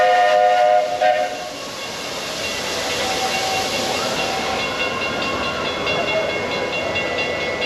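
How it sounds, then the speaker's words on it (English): An empty test train runs past beside Splash Mountain at a theme park with a steady hissing rumble and a brief whistle-like tone at the start, moderately loud and continuous. "you can see the train over here"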